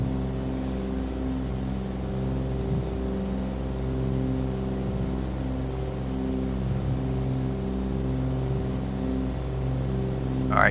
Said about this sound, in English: we have full power on the good engine